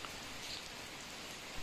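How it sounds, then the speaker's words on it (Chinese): Rain falling in the mountains, a soft steady hiss of drops on surfaces, faint and even throughout the short stretch, with no voices. "又下雨了"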